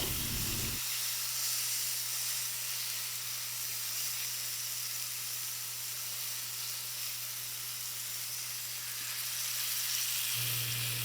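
Steak and garlic cloves sizzle in a hot pan, a steady bright hiss over a low constant hum, close and continuous with no talking.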